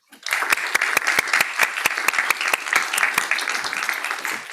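Audience applause welcoming a speaker at a research day event, dense close clapping that starts abruptly and holds steady, with individual sharp claps standing out.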